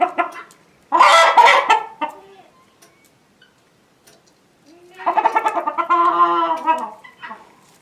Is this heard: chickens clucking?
yes